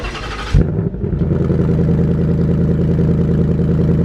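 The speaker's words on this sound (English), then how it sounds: "First start up with the car" A sports car engine cold-starts, cranking and catching, then settles into a loud, rumbling, steady idle close by.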